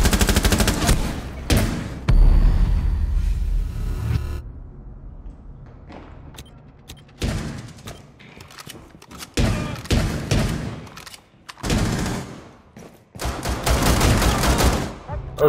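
Gunfire in Tom Clancy's Rainbow Six Siege comes in loud, close bursts and rapid volleys with thuds between them, broken by short quiet gaps. A player's voice is faintly audible in places.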